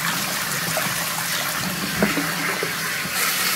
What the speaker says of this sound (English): Let's turn on the water and see if some comes out now.